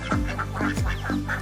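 Farm ducks that have just eaten wheat bran and rice bran quack in several quick nasal calls, close and fairly loud, with no voices over them.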